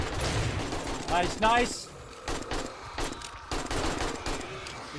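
Gunfire in the zombie survival game 7 Days to Die during a night of bomber attacks, heard as sharp repeated bursts in the first two seconds, then scattered single shots under excited talk from players.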